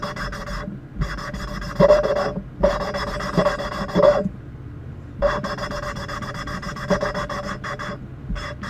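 Valves on a Ford 3.8 engine are hand-lapped, with a lapping tool grinding back and forth under pressure in a raspy, rhythmic rubbing that comes in long close strokes with brief gaps.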